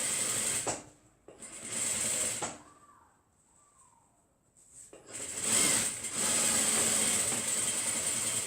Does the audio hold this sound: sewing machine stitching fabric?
yes